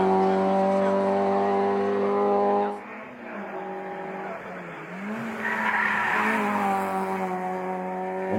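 Peugeot 106 XSI race car at the Falperra hillclimb, its engine screaming loud and close at high revs, then dropping off abruptly with a gear change before climbing again, with tire squeal.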